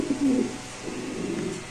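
An Indonesian male pigeon coos in a low, throaty burst near the start, then softer murmuring coos follow close by.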